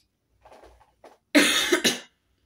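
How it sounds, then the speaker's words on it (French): A woman coughs near the microphone while making diamond painting at home, with a few soft, faint sounds first and then two loud, harsh coughs close together. "je tousse."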